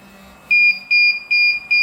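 Four loud, steady electronic beeps in a regular rhythm, each about a quarter second long, from a DJI Phantom 3 Professional drone remote controller starting up, over a faint low hum.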